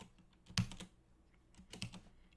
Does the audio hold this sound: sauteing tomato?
no